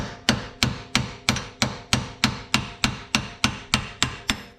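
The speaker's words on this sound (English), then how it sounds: "So to unlock these, you literally just hammer it to the left and that should work fine." A hammer strikes a car's front-left coilover adjustment ring to knock it loose, a rapid run of about fourteen sharp metallic blows at a steady, even rhythm, close and loud with no talk.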